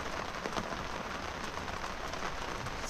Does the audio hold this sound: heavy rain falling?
yes